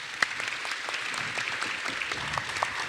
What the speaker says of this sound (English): let's give our folks here a huge round of applause